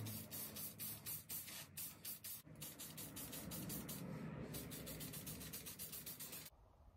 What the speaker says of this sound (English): I am just going to do a few layers of clear coat on the middle